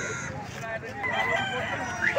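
Rooster crows at the Vadalur chicken market amid clucking fowl, moderately close over a busy background of market chatter and voices.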